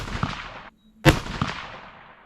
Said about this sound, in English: Let's shoot this 39 grain.